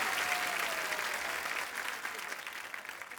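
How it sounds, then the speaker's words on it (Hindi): A studio audience on a comedy talk show breaks into loud, sustained applause for actress Ileana, the dense clapping holding steady and then easing slightly toward the end. "इलियाना के लिए जोरदार तालियां"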